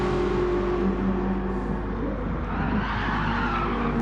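Race cars in a PS4 racing game roar steadily through a final-lap battle in a league championship round, with continuous engine drone and tire skidding running loud and unbroken throughout, no voices.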